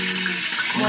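Water poured into a hot cooking pot while making daal in a village kitchen, a brief, loud, steady hissing rush.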